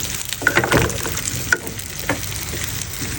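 Small local potatoes fry in hot oil in a pan for a pigeon dish, giving a steady close sizzle with a few sharper pops and utensil clinks near the start.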